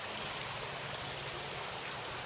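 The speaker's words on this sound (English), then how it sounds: "wishing well or water fountain." Water from a fountain or wishing well splashes inside a building entrance, a continuous hissing patter of falling water, steady and fairly close, no talking.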